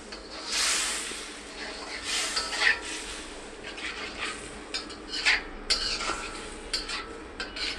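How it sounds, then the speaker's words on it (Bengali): A spoon stirs fish curry masala with a little added water in a wok, for a rohu and potato curry, producing soft scraping and wet scuffing strokes at an uneven pace, close and moderately loud. "এখন আরামসে নাড়াচাড়া করা যাবে"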